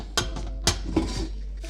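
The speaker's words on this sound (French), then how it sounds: "Donc on va sortir la poêle." A frying pan is handled, clanking sharply against metal a few times close by, with softer scraping knocks in between.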